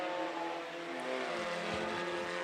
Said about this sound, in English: cars up to speed off turn number 4.